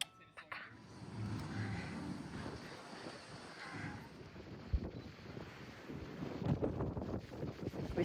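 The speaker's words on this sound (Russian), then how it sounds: "Такой сильный ветер." Strong wind on the Aegean coast at Bodrum buffets the microphone in a continuous low roar with gusty swells, fairly faint overall and with no voices.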